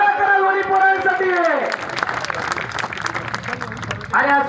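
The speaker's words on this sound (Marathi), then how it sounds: "टाळ्या करा दोन्ही पोरांसाठी।" Spectators at a village wrestling match during a Bhairavnath festival in Pune clapping for two wrestlers, a brief burst of applause under and after an announcer's amplified voice.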